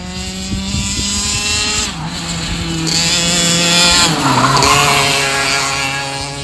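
A go-kart is driven hard around a racing track, its engine whining loudly in a buzzing, high-revving tone that drops and climbs again as it brakes and accelerates through corners.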